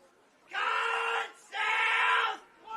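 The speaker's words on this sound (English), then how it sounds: "As the crowd try to get South Hobart fired up again" Football crowd at a McDonald's NPL preliminary final, South Hobart v Kingborough, raising two long, sustained chanted shouts in quick succession, loud and fairly close, with a third starting as it ends.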